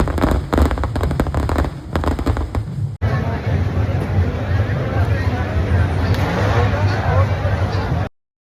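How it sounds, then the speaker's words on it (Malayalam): Festival fireworks at a Kerala pooram procession in Palakkad, loud and dense with rapid cracking bursts and booms, then a sudden shift to a sustained roaring barrage that cuts off abruptly at the end. "ഒരു ദേശത്തിന്റെ ആദ്യ വെടിക്കെട്ട് നടക്കുന്നുണ്ട് കേട്ടോ"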